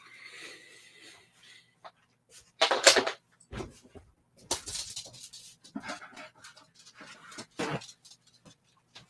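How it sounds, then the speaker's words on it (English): A dog pants and shuffles close by indoors, with quick breathy bursts, a faint whimper and scattered thumps, like a door or cupboard, in between. "My dog is here too."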